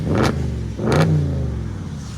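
A straight-piped 2004 Audi S4 4.2L V8 revs hard twice in quick bursts, then settles into a steady, throaty idle rumble close by, with light rain noise in the background.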